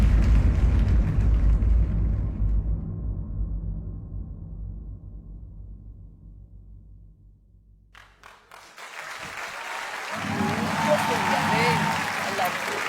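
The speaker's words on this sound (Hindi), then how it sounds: "भारत की शान क्लासिकल क्वींस के लिए जोरदार तालियां।" An audience on a televised junior dance competition stage gives a standing ovation. Loud clapping fades out, then a wide wash of applause and cheering swells back up.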